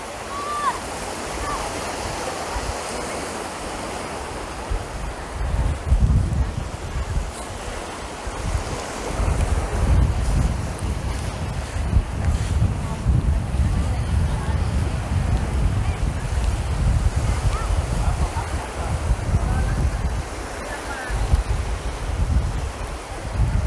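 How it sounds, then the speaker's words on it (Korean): Wind and surf wash steadily along Hua Hin beach in Thailand, a fine-sand shore beside a resort, with broad rumbling surges and constant wind noise throughout. "자 이곳은 후아인 비치입니다"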